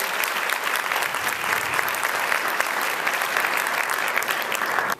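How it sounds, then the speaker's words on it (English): A large audience at a motivational speaking event breaks into loud, sustained applause, dense clapping with scattered crowd noise holding at full strength for the whole stretch before cutting off at the very end. "Give him a tremendous round of applause."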